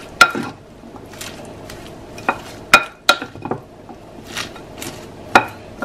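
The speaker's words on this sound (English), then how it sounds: "sprinkle your salt and the chili powder, and then give it a good mix" A taco rice bowl is mixed with mayo, salt and chili powder, giving a run of close, sharp scrapes and clinks of a utensil against the bowl. Softer stirring sounds fill the gaps, with no talking.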